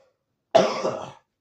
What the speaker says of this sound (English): Still have a bit of a cough from being sick.